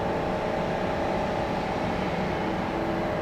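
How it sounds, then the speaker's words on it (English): A distant aircraft APU hums steadily across an airport apron at Raleigh-Durham International, a constant even drone with no breaks. "Sounds like they've started an APU over on the other side of the airport over there."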